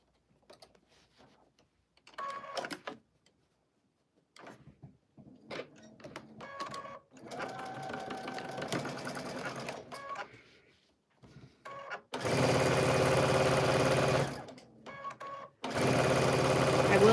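A sewing machine stitches around a dress armhole in short bursts of rapid whirring, with two longer, louder runs near the end. Someone talks quietly in the pauses between them.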